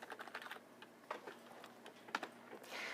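Quick, light keystrokes tap on a computer keyboard in a short quiet burst, irregular clicks close to the mic with no talking.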